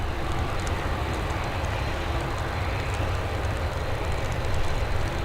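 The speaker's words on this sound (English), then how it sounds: "Next up, we've got this Boeing 737. She's heading over to Billund." Boeing 737 airliner on the runway at Dublin Airport, a steady broad jet engine roar heard from a distance, constant and moderately loud without talk.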